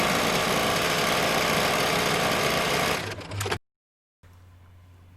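A Ricoma EM1010 embroidery machine runs steadily at close range, stitching a final pass on an in-the-hoop monogram coaster, then slows and stops abruptly, leaving brief silence followed by a low hum.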